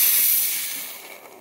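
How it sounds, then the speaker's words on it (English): Steady hiss from the steam wand of a Homtone 20-bar touch-screen espresso machine, run empty for a moment, loud at the start and tapering gently over a second and a half, with no talking. "Now, I'm going to turn this on for just a second with nothing in it so you can see that it's on steam."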